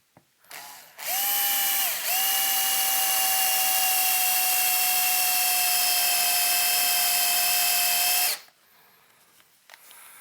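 Power drill boring holes in a metal chassis for a hi-fi tube pre-amp, a loud sustained high whine running for about seven seconds after a brief start-up, close by, with quiet workshop noise before and after.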